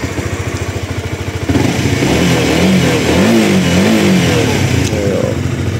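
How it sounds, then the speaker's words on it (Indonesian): A used sport motorcycle engine idles with a fast throbbing pulse, then is revved up in several rising and falling surges, loud and close, alone without talk. "Coba kita geber ya."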